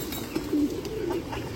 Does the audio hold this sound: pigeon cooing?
yes